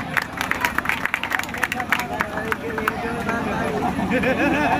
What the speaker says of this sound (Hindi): 110 के लिए एक बार जोरदार से ताली हो जाए